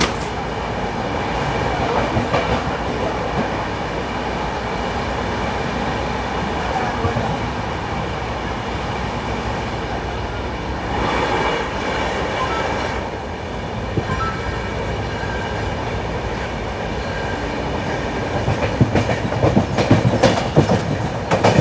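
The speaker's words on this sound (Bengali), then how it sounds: "আমাদের ট্রেন এখন মেচেদা স্টেশনকে স্কিপ করছে" The 12073 Howrah–Bhubaneswar Janshatabdi Express runs at high speed past Mecheda station, heard from on board as a loud, continuous rumble with rhythmic clickety-clack of wheels over rail joints, growing harsher toward the end.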